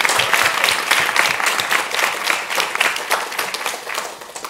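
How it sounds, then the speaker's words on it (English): An audience gives a round of applause for the teams who presented at a showcase, with dense, lively clapping that stays strong and then slowly thins toward the end. "can we please also have one last round of applause for all the incredible teams who presented today"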